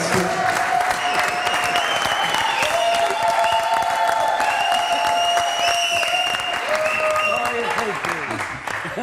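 A studio audience applauds steadily and loudly, clapping continuously, with cheering and voices mixed into the crowd noise.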